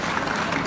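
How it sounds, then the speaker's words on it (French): Crowd at Secours Expo 2018 in Paris applauding a rescue dog demonstration, a brief, dense burst of clapping. "On peut les applaudir très fort s'il vous plaît pour cette magnifique démonstration."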